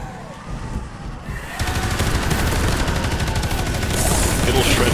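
Heavy gunfire from Space Hulk: Deathwing, a close-range Vengeance cannon in co-op play: a quieter stretch gives way to a dense, loud, continuous rattle of rapid shots and blasts that keeps building.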